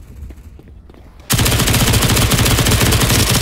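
Galil rifle fire in the video game CS:GO bursts in abruptly after a quiet moment, then runs as a loud, continuous automatic spray of rapid shots to the end.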